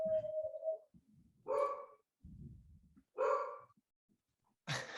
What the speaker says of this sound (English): did you hear my dog?